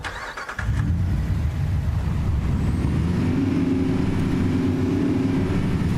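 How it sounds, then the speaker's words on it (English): Truck engine in the hunting game Way of the Hunter 2 starting up, then a loud, steady close rumble that runs unbroken to the end. "Yes, the truck is very loud."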